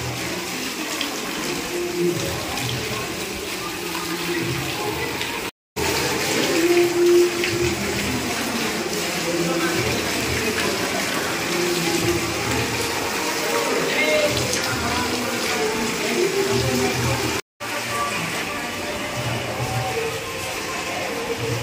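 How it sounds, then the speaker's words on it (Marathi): Water gushing steadily from a spring beside temple steps at the Gomukh shrine near Tuljapur, a constant loud rushing flow close by, with voices faintly underneath. "पायऱ्यांवरनं जाताना सुद्धा पाण्याचा झरा फुटलेला आहे बघा"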